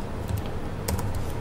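Someone types quickly on a computer keyboard while editing code, producing a close run of clicky keystrokes over faint background noise.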